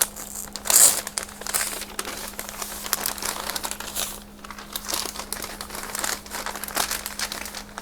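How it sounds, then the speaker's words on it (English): Crinkly paper wrapped around new clothing is torn and unfolded up close, giving soft, irregular rustling and crackling with a sharper rip near the start. There is no talking. "The paper's really crinkly."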